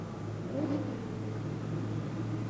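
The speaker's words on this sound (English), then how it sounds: "waiting for Richie Lee to manage to fire the car up" Rover V8-engined Supergas drag race car at Santa Pod, 1990: a steady, low engine rumble that holds fairly even with a slight swell, heard alone without talk.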